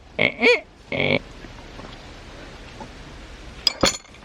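Metallic squeaks and clanks of a gate swinging open, a brief pause, then a sharp clink and rattle as it shuts.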